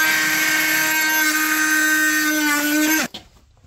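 A Bosch multitool blade cuts into wood with nails, giving a loud, steady high-pitched buzzing whine that stops abruptly after about three seconds, followed by a short clatter.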